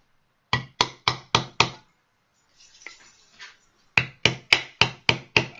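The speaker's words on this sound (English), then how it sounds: "you can hammer a nice little pattern into here if you want to" Hammer tapping a pattern into metal for a hummingbird feeder: five sharp, evenly spaced metallic taps, a quiet pause with faint rustling, then six more crisp taps in the same quick rhythm.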